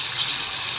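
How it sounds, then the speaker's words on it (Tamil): Diluted tamarind water for tomato pepper rasam pours into a pan in a steady, close, continuous gush of liquid, with no voice over it. "இனி நம்ம வந்து கரைச்சி வச்சுருக்க இந்த ரசத்தண்ணியை நம்ம இதில் ஊற்றிடலாம்"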